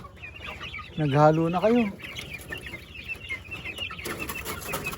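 Small farm chicks peep and cluck in a steady, high chatter throughout, with a voice speaking briefly over them near the start.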